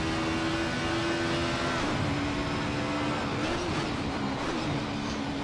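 A racing car's engine in the driving game Assetto Corsa on a forgotten circuit, a steady loud drone that rises in pitch, dips briefly at a gear change into fourth, and keeps climbing.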